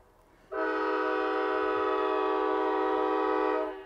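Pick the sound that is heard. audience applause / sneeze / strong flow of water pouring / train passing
train passing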